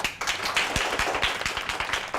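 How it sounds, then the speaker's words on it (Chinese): Colleagues in an office clapping to welcome a new coworker, a short burst of scattered, moderately quiet hand claps from a small group, with no talking. "大家鼓掌欢迎"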